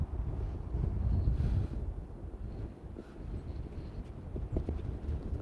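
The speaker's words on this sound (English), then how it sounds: "Yeah, it's pretty windy up here." Wind gusting across an exposed hilltop trail, a steady low rumble buffeting the microphone, loudest in the first second and a half and then settling to a rougher, slightly weaker roar.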